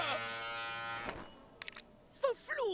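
Electric razor buzzing steadily while shaving a character's hairy legs in the Deponia Doomsday adventure game, a sustained harmonic drone that cuts off after about a second, followed by short sound effects and voices.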